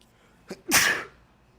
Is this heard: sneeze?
yes